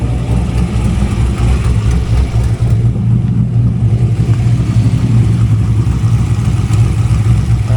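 A 2002 Chevrolet Corvette with a swapped LS3 V8 runs with a loud, steady engine drone and low rumble up close, holding a constant level without talk.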